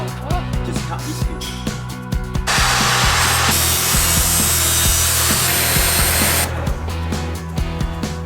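A power tool cuts through the roof rack of a Land Rover Defender 130, modified to fit 285/75 tyres; a loud, steady grinding roar runs for about four seconds in the middle, with clanks and handling knocks before and after.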